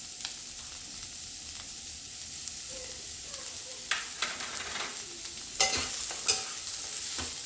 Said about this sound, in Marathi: छान आता आपण असं परतून घेऊया त्याला आधी